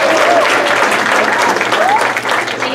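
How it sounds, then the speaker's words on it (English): At an elementary school event, an audience applauds a student who has just recited a poem, with loud, continuous clapping and a few faint voices and whoops rising over it. "Let's give him a round of applause."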